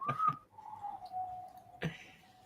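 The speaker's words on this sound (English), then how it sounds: "He sent me a whistle sound." A game-session sound effect of a whistle: a short two-pip whistle, then a long steady falling tone, and a sharp burst near the end, fairly quiet with no voices.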